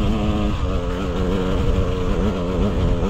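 A dirt bike engine revs hard while climbing on a Utah single-track trail, a loud, close, continuous buzzing drone that rises and wavers in pitch.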